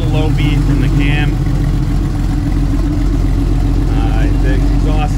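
A Porsche 911 Carrera 2 (964) with a non-stock exhaust idles close by, giving a loud, low, steady rumble with a slight lumpy cam beat, while someone talks over it.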